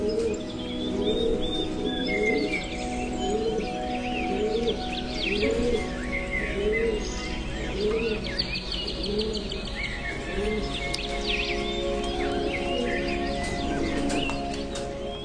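Pigeons in a loft give repeated soft, rolling coos in a steady rhythm, close by, with scattered chirps and fluttering noises around them and no talking.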